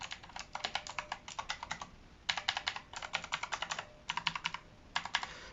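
Crisp clacking keystrokes on a HIWING HI300 one-handed mechanical gaming keyboard, pressed in quick bursts of several clicks separated by short pauses, close and alone.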